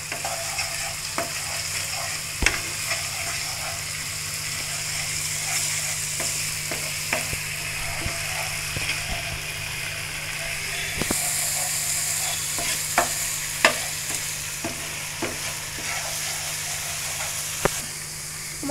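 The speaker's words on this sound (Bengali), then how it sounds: "মশলাটা ভাজা হয়ে গেছে আমার।" Whole spices frying in hot oil for biryani, a steady close sizzle with scattered sharp clicks and scrapes from stirring, heard alone throughout.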